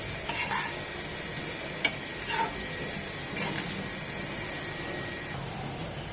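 Chopped onion frying in oil for a rui fish belly roast, a soft steady sizzle with a few sharp clicks of a utensil against the pan, fairly quiet.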